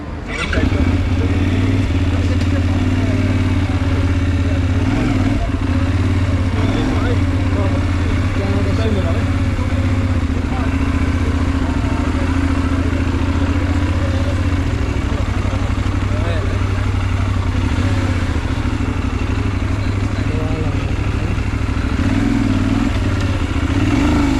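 A Benelli 752S motorcycle on a test ride rumbles with a loud, steady engine drone and wind noise throughout, and a voice talks over it.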